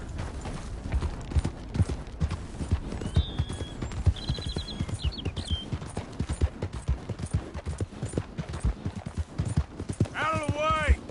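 Hooves of a horse in a PS4 video game beat in a rapid, steady clip-clop rhythm throughout, under ongoing speech, with a brief whinny near the end.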